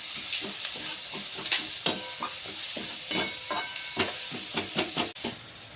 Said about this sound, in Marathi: आपला हे मसाला खूप छान प्रकारे असा फ्राय झालेला आहे